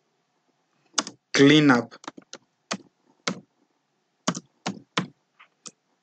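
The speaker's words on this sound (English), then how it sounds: "come here to the start key, type disk" Computer keyboard keys are typed in short bursts of crisp clicks, then several isolated keystrokes, with a brief spoken word mixed in.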